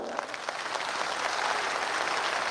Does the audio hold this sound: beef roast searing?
no